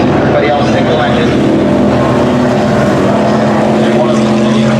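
A Spectra catamaran racing boat powered by twin Mercury Racing outboards roars past at full throttle, its engines droning loud and constant for the whole stretch.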